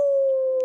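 A dog howls in one long, steady, sustained tone, close and fairly loud, with no talking over it.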